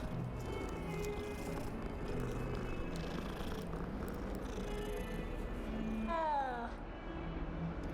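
A cat in the Hogwarts video game purrs steadily and close, then lets out a short rising meow near the end, all over a constant bed of game background sound.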